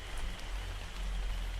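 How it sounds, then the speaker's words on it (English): Steady indoor rain falling in the video game Ark: Crystal Isles on Xbox Series X, a soft continuous hiss of drops with no talking. "It's raining."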